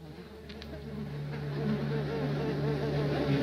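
Steady insect buzz of a mosquito in a TV public service announcement about Zika, droning continuously and growing slightly louder over a low hum.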